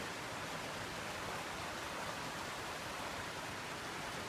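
Creek water rushing at the Arroyo Seco headwaters where it splits from Bear Canyon Creek, a dense, even hiss of flowing water that continues without a break, faint and steady throughout.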